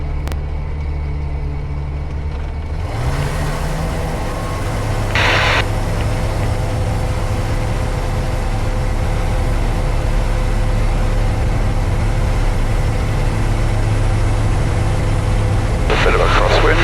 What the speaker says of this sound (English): But we're in the air and we're climbing.